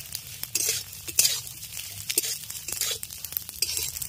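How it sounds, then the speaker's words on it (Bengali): Semai vermicelli frying in a pan over low heat while being stirred, with soft sizzling and the repeated scrape and clink of a spoon against the pan, close and fairly quiet, with no talk. "প্রথমে সেমাইটাকে একটু ভেজে নিচ্ছি।"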